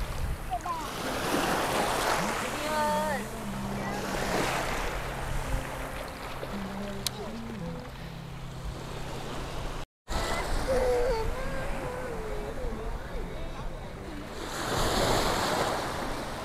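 Sea waves surging onto the beach at Cần Giờ, a steady broad wash of surf mixed with wind buffeting the microphone, with voices talking over it at times.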